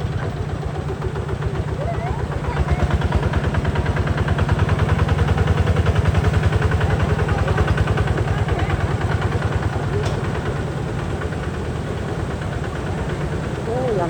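A modified vehicle's engine revving nearby, a loud rapid pulsing putter that rises and falls over several seconds, with people talking over it.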